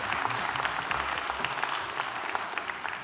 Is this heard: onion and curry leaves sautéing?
no